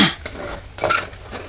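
Masala being stirred in a cooking pot for masala khichadi, a few close scraping and clinking strokes of a utensil against metal, short and uneven.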